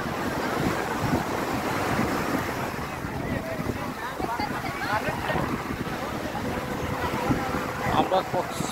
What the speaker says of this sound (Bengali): অনেক গর্জিয়াস ঢেউ এখানে।